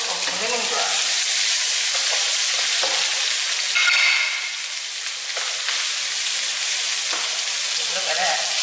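Tiger prawns fry with ginger, lemongrass and red onion in hot oil, a loud continuous sizzle with occasional scrapes and stirring clatter close up, swelling briefly midway.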